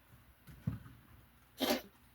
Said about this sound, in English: You okay? Or are you sneezing?